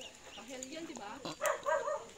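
A puppy on a muddy trail up Mount Balagbag gives soft yips and whimpers, a few short bursts amid outdoor chatter as people talk nearby.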